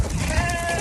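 A single sheep bleats briefly, a close, sustained wavering call over a noisy outdoor background in a farm setting.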